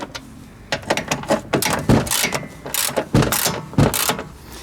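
Ratchet removing 10 mm bolts on a 2009 Mazda 5, a series of loud clicking ratchet strokes in quick irregular bursts, close up.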